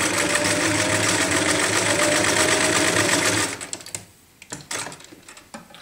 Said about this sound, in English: And again, start sewing.